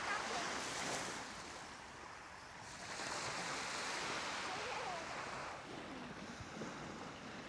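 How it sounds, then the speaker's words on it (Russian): Calm, windless sea on the Georgian coast in winter, with a soft, steady wash of gentle surf carrying broadband hiss throughout and a slight swell in level partway through, no voices present. "Сегодня прям не ветерка, штиль, море такое спокойное."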